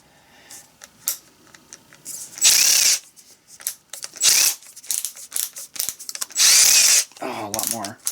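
A red Milwaukee cordless brushless drill driver set to hammer mode, spun in several loud bursts of whirring and rattling, with quieter clicking and handling noises between runs.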